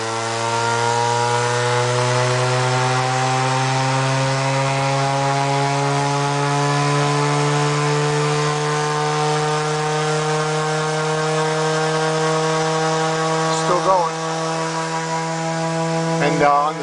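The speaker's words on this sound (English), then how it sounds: "once I take off the load for the bulb, it spins, it revs up" A Rotorgenie2 brushless DC pulse motor and generator spinning up with no load, a steady rising whine with strong harmonics that climbs gradually in pitch, close and continuous, with a brief glitch near the end.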